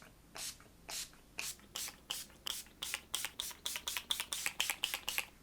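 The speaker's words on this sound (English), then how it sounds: "hold your breath, and we'll spray." Makeup setting spray misted onto a face from a pump bottle, about fifteen short hissing spritzes that start slow and speed up into a quick steady rhythm, close and fairly soft.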